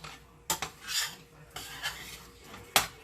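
Food stirred in a pot with a utensil, a handful of short scraping and clinking strokes against the metal, close and fairly quiet, with no talk.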